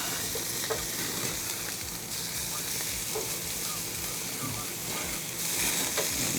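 Strip steak sizzles on a Monument G22 portable grill at a campground, a steady close frying hiss that runs throughout with occasional louder spits and flares.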